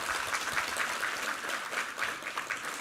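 A church congregation applauds during a Sunday sermon, producing a dense, steady roar of many hands clapping that fills the room at an even level throughout.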